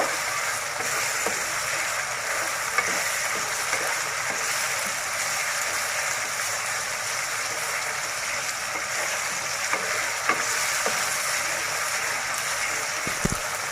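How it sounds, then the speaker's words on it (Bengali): Spice masala for beef curry frying and being stirred in hot oil, a steady close sizzle with occasional scraping clicks of the spoon, no talk. "এইভাবে 2 মিনিটের মতো মশলাটা আমি কষিয়ে নেব।"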